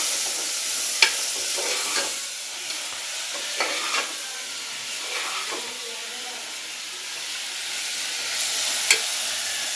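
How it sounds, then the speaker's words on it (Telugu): Bitter gourd pieces are stirred in a hot pan with oil, giving a steady soft sizzle and hiss broken by a few sharp scrapes of the spoon against the pan. "ఇప్పుడైతే కలిపేసుకోవాలి కాకరకాయ ముక్కలను"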